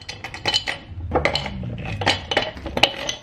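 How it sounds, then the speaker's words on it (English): Ice cubes are grabbed and dropped into a glass, giving a rapid string of sharp clinks and rattles close up, several distinct knocks over a few seconds with no talking. "Then I'm gonna grab some ice."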